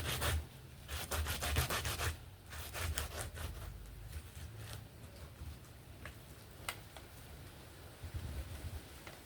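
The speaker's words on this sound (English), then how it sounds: "this is the last one I'm going to scrape" Ripe banana scraped against a metal grater while making a traditional banana paste, giving rough, rhythmic rubbing strokes that come in bursts and then ease into a steadier, softer scraping.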